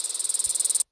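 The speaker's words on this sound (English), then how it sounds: "Cicada." A cicada trills in a steady, rapid pulsing buzz, about sixteen even pulses close and loud, then stops abruptly.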